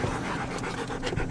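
A dog pants quickly and steadily up close, the breaths coming in a rapid rhythm with no talk over them, somewhere near a lake.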